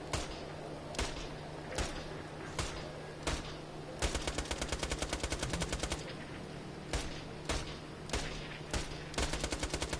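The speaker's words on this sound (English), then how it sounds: "If you single fire Hyperion SMGs, they sound different than if you hold down R2." Rapid automatic gunfire from a Hyperion SMG in Borderlands: The Pre-Sequel, played as short single-shot bursts and then a sustained stream of fast shots, loud and close against a steady game hum.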